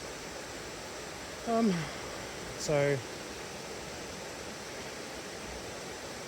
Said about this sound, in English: creek is going crazy.